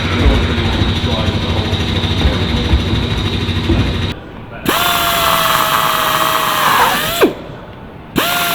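Power drill running in a workshop during the restoration of Lancaster NX611, a steady whirring drone that cuts off, restarts with rising and falling motor pitch, then stops again, with people talking nearby.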